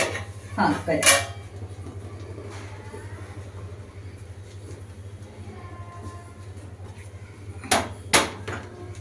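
A cooking pot of masoor pulao is set on a hot iron tawa, giving sharp metallic clanks near the start and a second pair near the end, close and distinct over a low steady hum.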